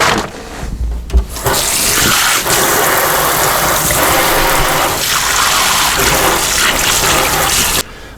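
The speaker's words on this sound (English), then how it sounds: "Wash off my hands." Hands are washed with soap and water at a kitchen sink, with a steady rush of running tap water splashing for several seconds before it cuts off.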